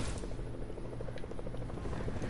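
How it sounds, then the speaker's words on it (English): Steady rhythmic chopping of a game helicopter's rotor, a constant pulsing whir heard up close with no one speaking. "They're using the helicopter."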